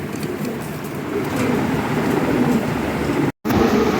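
Toy Lahori pigeons in a seller's loft coo in a loud, steady, overlapping murmur close by, broken by one abrupt silent gap near the end.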